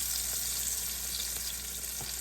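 Beef cube steak fries in a pan, making a dense, steady sizzle that holds at an even level throughout, with no voice over it.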